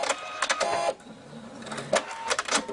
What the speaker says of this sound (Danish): når vi afslutter sømmen, så hæfter den og klipper tråden.